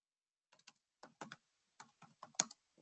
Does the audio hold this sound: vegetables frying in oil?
no